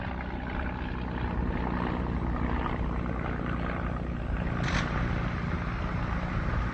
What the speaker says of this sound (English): The sound of aircraft engines crossing the front died away.